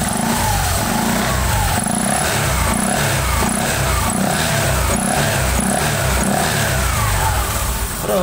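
A small automatic scooter engine revs steadily and loudly, its drone holding high and constant throughout with no talking.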